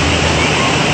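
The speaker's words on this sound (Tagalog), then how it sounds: "Inilalabasan ng tubig." Water gushing from the outlet of Wawa Dam in Montalban, Rizal, a loud, steady broadband roar with no breaks, close and filling the whole moment.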